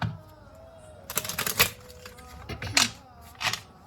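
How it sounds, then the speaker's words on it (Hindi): Tarot cards being shuffled by hand, close up, in a few quick papery riffling bursts spread over a few seconds. "This is my last shuffle."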